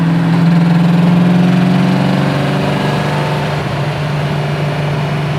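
A 1973 Plymouth Cuda V8 idling once warmed up, a loud, steady, close low rumble with an even throb that holds through the whole stretch, with no voices.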